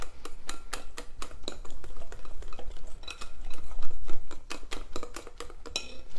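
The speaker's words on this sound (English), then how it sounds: "Kind of incorporating it as I'm adding it," A whisk beating vegetable oil into waffle batter in a bowl, rapid rhythmic clicking and tapping strokes against the bowl, close and steady, with no talking.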